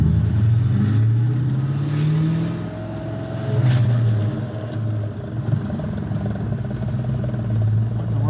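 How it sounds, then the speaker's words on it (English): A modified Cobra Mustang drives along with a low, uneven thudding from its transmission beneath the steady engine drone and road rumble, the knocking pulsing irregularly as the car rolls, fairly close and without talk. "There's like a thudding going on, like from the transmission."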